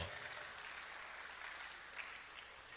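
An audience at a university convocation ceremony claps, heard as a soft, distant wash of continuous applause that holds steady throughout without distinct individual claps standing out.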